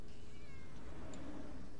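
In the point-and-click adventure game Randal's Monday, a cat gives a drawn-out meow over a dense, steady game soundscape.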